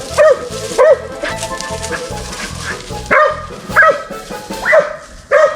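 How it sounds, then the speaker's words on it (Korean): A dog barks repeatedly in a plaintive, whining way, rising yelps recurring every second or so, fairly loud and close, outdoors in Sighnaghi, Georgia. "쟤 너무 서럽게 짖잖아"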